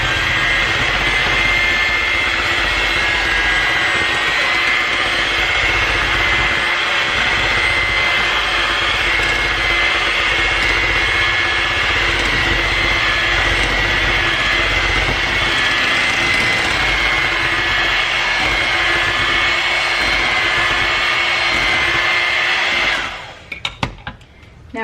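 An electric mixer beats cheesecake batter for a blueberry cheesecake after an egg goes in, a loud, steady motor whir running unbroken for over twenty seconds before it cuts off near the end.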